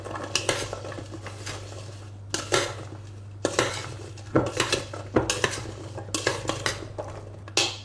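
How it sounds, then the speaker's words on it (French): Vegetables tossed with oil in a dish for oven roasting, a spoon clanking and scraping repeatedly against the dish in bursts of mixing, close and clear over a low steady hum, no voices. "On mélange tout ça."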